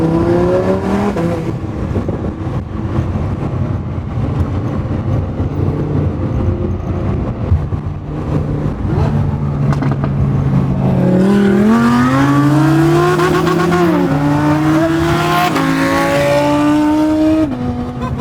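Several supercar engines in a video game, an Audi R8, a Lamborghini Huracán and an Aventador SVJ, rev loudly and continuously, pitch climbing and falling through gear changes, with a rising scream of acceleration near the end.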